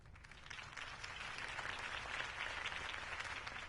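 Steady crowd applause in the Batman Telltale video game, a dense wash of many hands clapping that holds at an even, moderately faint level throughout.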